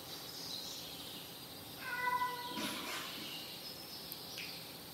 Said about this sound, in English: And the cat who wants to get in.